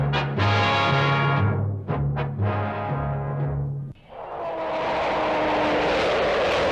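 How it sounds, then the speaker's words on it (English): An Avro Vulcan delta-wing jet bomber roars loudly overhead in the second half of the clip, a steady, broad, rushing jet noise with a sustained whine, after an opening stretch of droning, tonal hum. "This was to be the world's first delta-wing jet bomber."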